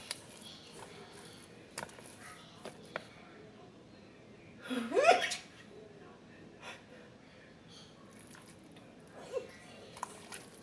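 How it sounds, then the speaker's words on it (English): One close sneeze set off by black pepper while pork chops are seasoned, a short breathy burst near the middle of a quiet kitchen, with soft taps and handling noises scattered around it. "That pepper got me sneezing."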